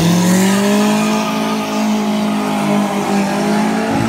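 A race car engine at an illegal street race at Interlagos revs loud and close, holding a sustained high-pitched drone that swells and dips slightly throughout.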